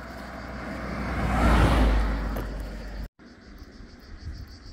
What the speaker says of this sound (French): Attention voiture.